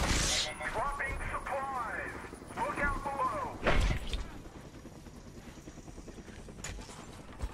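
Gunfire in the SOS: The Ultimate Escape video game, a few sharp shots and bursts among game noise, with people talking over it.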